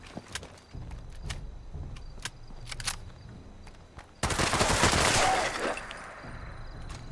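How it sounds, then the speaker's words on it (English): Rapid automatic gunfire in the video game Fallout 76, scattered shots giving way to a dense, loud burst of firing over a few seconds, with footstep-like thumps around it. "Some really poor shooting."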